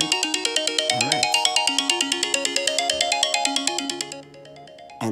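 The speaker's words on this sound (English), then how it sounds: "when someone calls you, for example, your ringtone should be loud" A bright, melodic iPhone ringtone from an incoming call plays in quick repeated notes, loud at first, then suddenly dropping much quieter near the end, a fault where the ringer becomes quiet.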